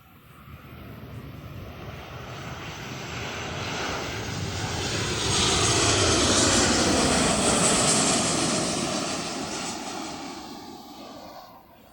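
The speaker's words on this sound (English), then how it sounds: "there's another plane coming" A Boeing 737 airliner passes overhead on its landing approach, its broad engine roar swelling from a distance to a loud peak mid-pass and then slowly fading away.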